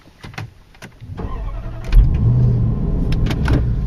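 A Range Rover Sport engine catches and settles into a steady, deep idle after a few clicks and brief mechanical noises, fairly close and loud with a low rumble.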